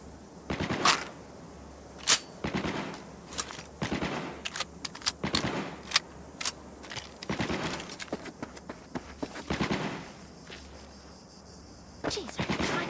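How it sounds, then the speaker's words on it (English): Fireworks go off in Cyberpunk 2077 as an irregular series of sharp cracks and popping bursts, some in quick clusters and some spread apart, with a faint steady background hum. "Fireworks show."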